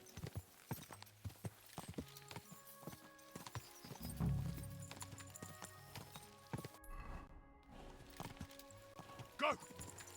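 Horse hooves clip-clop along a path in Kingdom Come: Deliverance II, an uneven trotting rhythm with occasional snorts and louder thumps, heard beneath game dialogue and a player talking.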